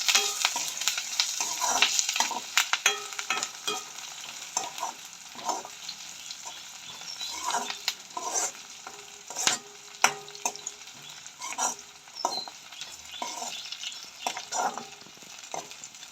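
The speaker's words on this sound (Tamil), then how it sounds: "எல்லாத்தையும் போட்டுட்டு எண்ணெயில் நல்லா வதக்கி விடுவோம்" Curry leaves and spices sautéing in oil for a fish curry, with a crackling sizzle and frequent scraping stirs of a spoon against the pan.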